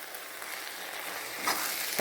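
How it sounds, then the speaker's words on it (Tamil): Tomatoes sautéing in a pan for country chicken curry, a soft steady sizzle with a slight rise near the end. "தக்காளி போட்டு வதக்கிக்கிறோம்"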